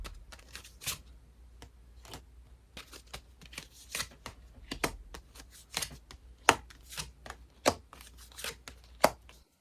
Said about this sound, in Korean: 우리 3번 분들 그러면 이 사람 관련한 조언 카드 자세하게 뽑아볼게요.